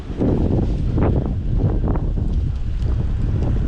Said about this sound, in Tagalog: hmm, lakas ng hangin.